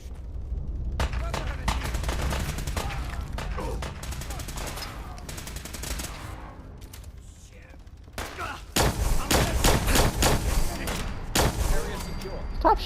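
Gunfire in Fallout 4 during a fight against the Railroad, sharp bursts of shots in rapid clusters, with a quieter stretch midway, then a dense, loud volley of repeated cracks near the end.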